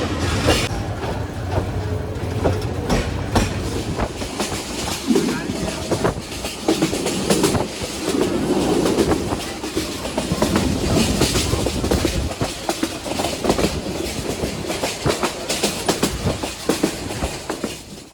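Parabat Express passenger train running from Dhaka to Sylhet, a steady loud rumble with clickety-clack of wheels on rails throughout, heard from inside the carriage with faint background voices.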